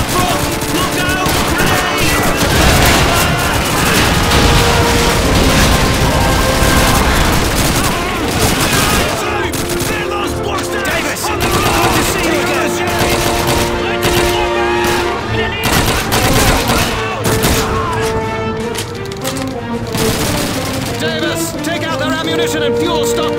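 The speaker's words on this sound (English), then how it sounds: "Let's give Sergeant Daggers and his boys some covering fire!" Covering gunfire in the Call of Duty 2 video game, with dense, loud, sustained bursts of rifle and machine-gun fire and booms, mixed with shouting soldiers and game music throughout.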